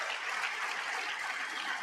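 Applause from an audience in a large chamber, a steady wash of clapping heard from a distance, fairly faint and unbroken for about two seconds.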